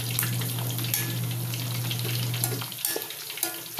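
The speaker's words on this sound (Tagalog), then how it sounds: "ibaliktad na yung piniprito para hindi masunog" Pork cheek frying in hot oil, a steady crackling sizzle with a low hum that cuts out partway, followed by a few scattered pops and clinks, no one speaking.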